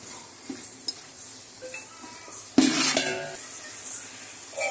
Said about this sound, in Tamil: போட்டு கொஞ்ச நேரம் வதக்கிக்கலாம்.